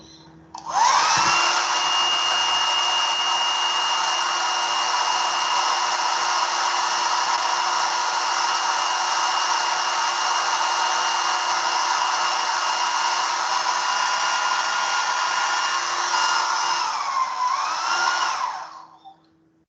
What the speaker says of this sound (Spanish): Voy a secarlo un poquito con una secadora.